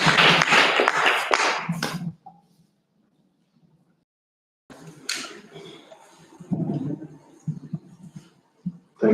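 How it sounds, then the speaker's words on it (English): A brief burst of audience clapping at a health ministry review mission and launch event in Karamoja. The hands fade out after about two seconds, followed by a near-silent pause and then a voice starting to talk over faint room noise. "Clap your hands."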